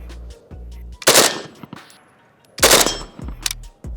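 An AK rifle fires in burst mode, with two loud, sharp volleys about a second and a half apart. Each blast is followed by ringing and softer mechanical clicks, and low motor-like hum sits between them.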